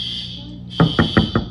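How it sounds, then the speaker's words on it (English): A fake alarm blares with a steady high electronic tone, briefly dipping, then returning with a rhythmic pulsing beat of about five strong low thumps under it, loud and close. "Waking my sisters up with a fake alarm."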